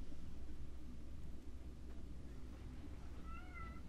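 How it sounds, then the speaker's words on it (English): A pet cat meows faintly in the background of an indoor room over a steady low hum, the cries brief and somewhat distant. "yeah, that was my cat."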